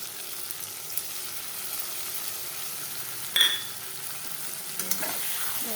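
A pabda fish curry with mustard paste, green chillies, turmeric and salt is stirred in a pan, giving a soft continuous sizzle and scraping with one brief clink of the utensil midway.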